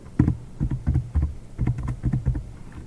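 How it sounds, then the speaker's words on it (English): Keys being tapped on a computer keyboard: short bursts of soft, close keystrokes in uneven clusters separated by brief pauses, alone without talking. "type in the due date"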